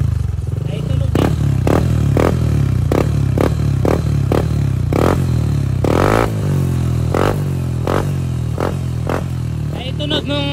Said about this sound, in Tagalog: Ay, tunog nung CRP na pipe.